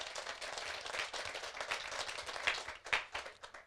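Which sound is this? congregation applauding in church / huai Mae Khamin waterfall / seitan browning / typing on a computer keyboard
congregation applauding in church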